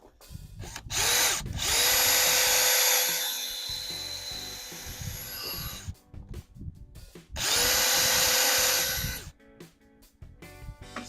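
Dewalt DCD805B 20V Max hammer drill boring into wood with a high-speed bit, two loud whining bursts of roughly three and two seconds, separated by quieter handling clatter.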